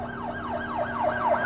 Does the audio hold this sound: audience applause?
no